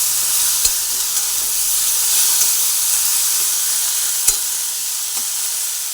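Eggplant and potato frying in a pan, a loud, steady hiss of sizzling oil with occasional small pops and faint stirring.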